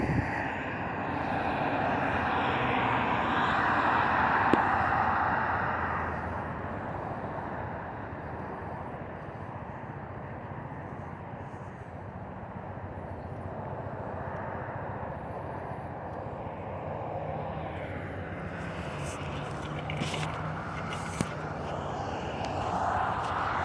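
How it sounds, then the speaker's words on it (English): Steady helicopter engine drone, fairly distant and continuous, with a low rumble and some wind over the microphone. "There's a helicopter with a green light."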